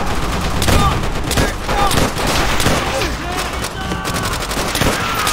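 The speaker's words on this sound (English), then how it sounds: "Then shoot through the damn wood!" Sustained gunfire in Call of Duty: World at War, rifles and a machine gun shooting through wooden cover, with dense overlapping bursts throughout and shouted voices in the mix.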